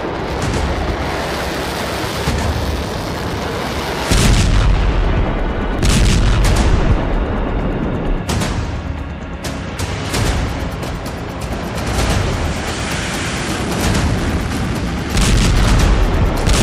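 Heavy explosions rock Beirut: deep, rumbling booms and sharp blasts land repeatedly over a continuous roaring background, loud and close, with several distinct heavy detonations spaced a few seconds apart.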